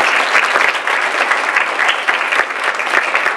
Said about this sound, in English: can we get a round of applause for our lecturers?